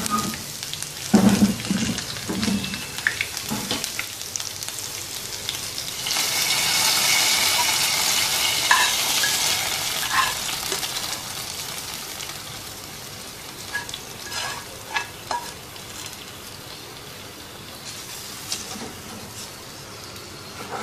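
Green chillies and cumin hitting hot oil for a tempering for Punjabi kadhi pakora, bursting into a loud hiss that swells midway and then settles into a softer crackle, close by with a few clinks.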